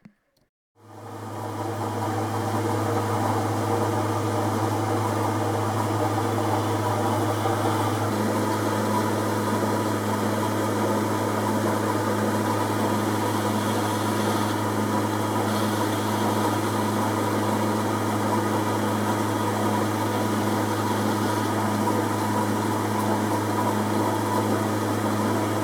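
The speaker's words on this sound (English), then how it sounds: "The lathe is running in the normal direction." A metal lathe starting up and then running in its normal direction, a steady, even motor hum with a low drone that holds unchanged throughout, close and alone with no talk.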